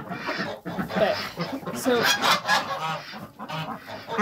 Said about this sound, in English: I gotta walk away from the ducks.